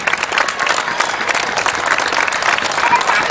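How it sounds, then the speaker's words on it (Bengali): A large crowd at a CICC stage event breaks into loud, sustained applause, a thick wash of many hands clapping without pause, with voices mingling underneath. "সকলে হাততালি"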